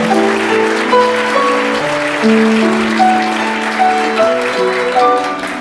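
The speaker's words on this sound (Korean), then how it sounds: "양가 어머님께 다시 한번 큰 박수 부탁드립니다." Sustained clapping from a crowd fills the space beneath soft instrumental music playing steady held notes, at a wedding ceremony in a hotel hall.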